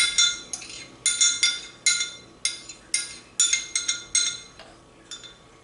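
A utensil rings against a bowl in a steady series of bright metallic clinks while mustard salad dressing is stirred, about a dozen close strokes in a regular rhythm that taper off at the end.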